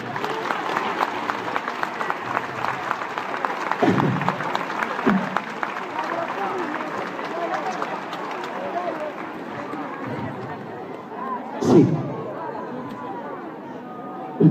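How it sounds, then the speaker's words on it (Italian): A crowd applauds a Madonna statue during an outdoor rosario procession for the Feast of the Assumption, sustained clapping and cheering lasting several seconds with a voice over a loudspeaker and crowd chatter mixed in. "Di nuovo un grande applauso alla Madonna"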